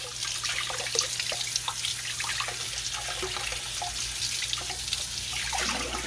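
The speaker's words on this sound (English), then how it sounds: "I just have cold water running. And I'm just going to rinse this chicken off." Cold water runs from a tap into a large kitchen sink while a raw chicken is rinsed under it, a continuous splashing stream with small drips and trickles, close and steady with a low hum beneath.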